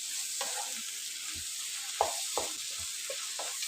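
Chicken curry gravy stirred in a pan with a spoon, soft scraping strokes and faint sizzling at an irregular pace, close but quiet, no voices.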